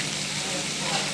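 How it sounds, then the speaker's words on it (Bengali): Small chapila fish fry in hot oil, giving a steady broadband sizzle that hisses evenly throughout at close range. "গরম তেলে আপনার ভাজা হচ্ছে মাছ।"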